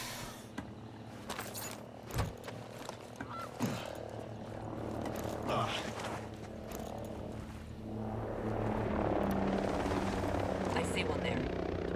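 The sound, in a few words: helicopter flying nearby in the video game Ghost Recon Breakpoint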